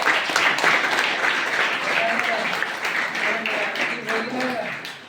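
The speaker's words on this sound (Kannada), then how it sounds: "ಅವ್ನಿಗೊಂದು ಚಪ್ಪಾಳೆ ಅಂತ ಅಭಿನಂದಿಸ್ಬೇಕು" A gathering at a religious discourse claps for a helper, with loud scattered applause at the start thinning out as a voice speaks over it.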